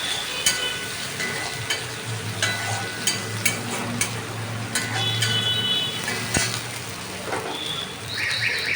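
Chopped onion fries in a pan, a steady sizzle and crackle running throughout, broken by periodic scrapes and clinks of stirring against the pan.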